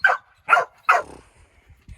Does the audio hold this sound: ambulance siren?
no